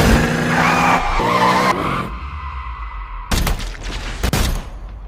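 A car in a film chase skids hard with loud tire screeching and engine roar, then a break of quieter rumble before two more sharp bursts of skidding and impacts, all close and intense.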